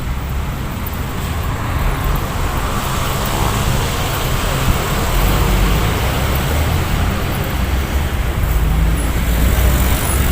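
Road traffic rolling past along the Manila Bay baywalk, a loud steady wash of passing cars and buses with deep engine rumble, heard close and continuous throughout.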